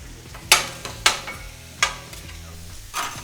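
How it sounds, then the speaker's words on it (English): A pound of 80-20 hamburger meat and chopped onions cook on a griddle, with several sharp scrapes and clanks of a spatula at irregular intervals over a low, steady sizzle. "We got a pound 80-20 hamburger meat, chopped up onions, show off your"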